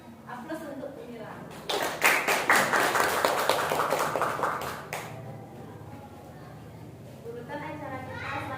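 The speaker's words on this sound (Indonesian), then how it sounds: "Aplaus untuk Mira." Clapping from a small audience at an indoor school gathering, a burst of applause lasting a few seconds and then fading, with a voice talking before and after it.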